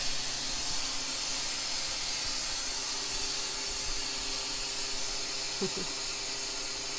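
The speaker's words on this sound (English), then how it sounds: "Release the vacuum to open the drain valve." A Harvest Right freeze dryer lets out its vacuum in a steady, loud, continuous hiss of rushing air close by, lasting the whole stretch with faint knocks underneath.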